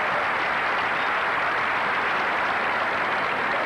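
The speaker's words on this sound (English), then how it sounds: "And applause of admiration for Evert Lloyd." Crowd at a 1982 Toyota Championships tennis match applauds Chris Evert Lloyd in admiration, a steady, dense wash of clapping that stays even and fairly loud throughout, with no voices standing out.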